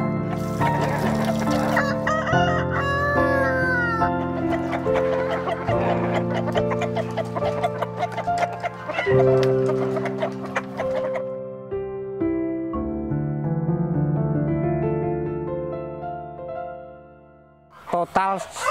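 Free-range chickens in a coop of about 360 birds: hens cluck steadily over a dense, continuous background, with a rooster crowing now and then; the sound is busy and fairly loud, like a crowded coop.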